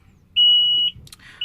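Instrument panel alarm on a Komatsu 785-7 haul truck, a single loud, steady high-pitched electronic beep of about half a second, followed by a short burst of chirps and a new beep starting.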